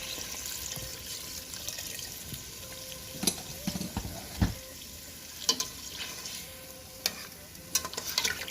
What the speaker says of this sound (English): I'm going to put some water, like 3 cups.